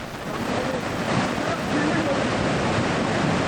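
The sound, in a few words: cold lahar flood water from Mount Merapi rushing down Gendol River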